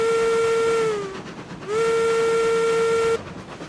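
A steam locomotive whistle in the game RailRoads Online blows two long, loud blasts separated by a short gap, each one sliding in pitch at its start or end.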